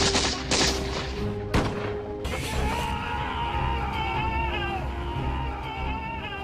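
Battle musket fire comes as a ragged volley of sharp cracks and booms in the first seconds, then gives way to a dense, sustained din of clashing noise and shouting-like tones, loud and chaotic throughout.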